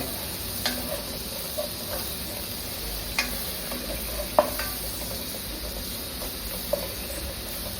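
Ginger garlic paste masala frying in a pan while being stirred, a low steady sizzle with occasional soft scrapes and clicks of the spoon against the pan.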